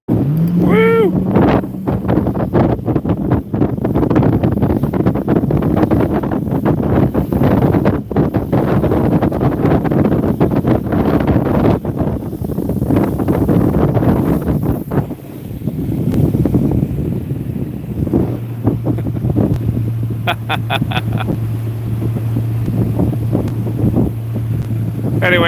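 A motorboat races along the Mississippi River with its engine roaring steadily under heavy wind buffeting. Voices shout and cheer over the din, and a lower steady drone settles in near the end.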